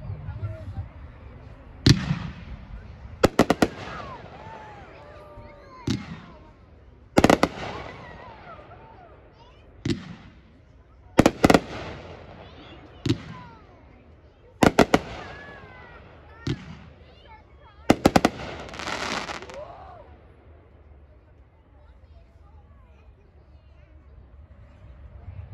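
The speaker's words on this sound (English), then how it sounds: "Item number 14 from Raccoon Fireworks," A Raccoon Fireworks Hazmat consumer fireworks cake fires a series of sharp, loud booming reports with irregular spacing, each followed by crackling and fizzing tails, then trailing off into quieter crackle and ambient noise.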